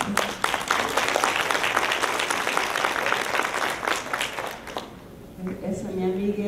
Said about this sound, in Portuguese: Queria uma salva de palmas para você.